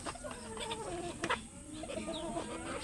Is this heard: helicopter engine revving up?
no